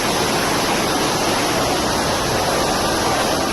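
Rushing floodwater after heavy rain during the Odisha floods roars as a dense, steady broadband wash with no pauses, loud and close throughout.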